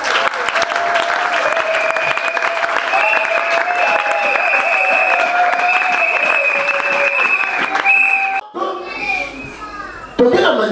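A church congregation breaks into sustained applause and cheering, dense clapping with sung or shouted voices riding on top, loud and close, then fading into scattered claps and talk near the end.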